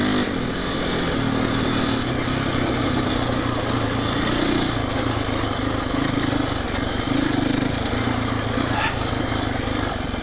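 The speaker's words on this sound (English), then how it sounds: "I think Jamie's been dying to get have another go on his enduro saddle" An enduro motorcycle engine drones steadily while riding, a continuous loud buzzing hum with wind noise throughout and no clear changes in pitch.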